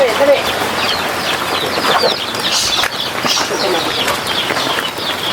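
Chickens clucking and squawking in a busy, noisy outdoor scene, with voices talking over the flock throughout.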